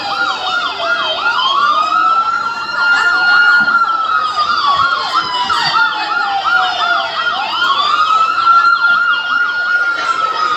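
An ambulance siren wails loudly and continuously at close range, its rising and falling tone cycling steadily with a faint road-traffic rumble underneath.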